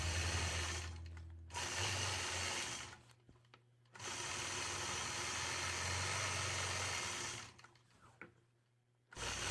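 A sewing machine stitches in the ditch around a quilt block during machine quilting with a mini 4-in-1 ruler: a steady, close motor whir with a rapid needle rhythm that pauses briefly twice before resuming.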